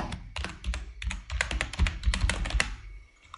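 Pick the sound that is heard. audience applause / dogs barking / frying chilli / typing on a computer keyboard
typing on a computer keyboard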